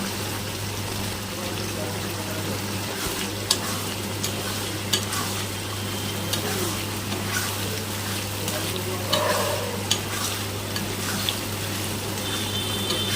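A frying pan of ridge gourd is stirred before poppy seed paste goes in, with a soft continuous sizzle and occasional scraping knocks of a spatula over a steady low hum, in a home kitchen setting.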